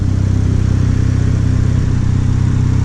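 A Mazda RX7 FD turbo car engine idles steadily and close by, a continuous low rumble with a throbbing pulse and no revving or voices.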